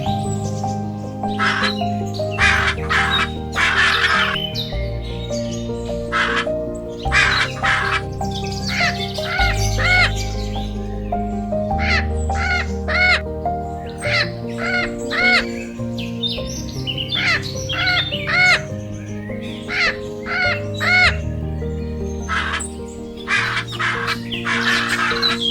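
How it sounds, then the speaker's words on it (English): Blue and yellow macaws call in the Amazon jungle, repeated harsh squawks and screeches in bursts across the whole stretch, ringing over a dense bed of other birds and forest sound, loud and close. "the blue and yellow macaw begins its foraging journey, flying across the Amazon sky in search of fruits, seeds, and other foods"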